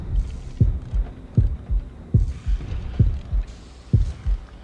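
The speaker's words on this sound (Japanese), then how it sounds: "心音かなり近いんでこっち来るかもしれませんけど、" A slow, heavy heartbeat warning sound from the horror game Horrorfield thumps steadily in a low double pulse, looping over a faint droning ambience with no talking.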